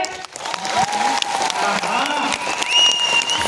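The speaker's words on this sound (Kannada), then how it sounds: "ಜೋರಿನಿಂದ ಚಪ್ಪಾಳೆ ಹೊಡೆದ್ರೆ" Loud audience applause filling the space, dense continuous clapping from many hands with cheers and voices mixed in throughout.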